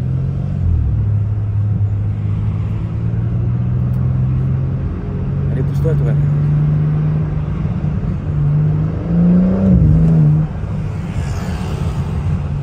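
A car engine rumbles deeply and continuously, its pitch rising and falling with revs and a late surge near the end, while someone briefly speaks over it.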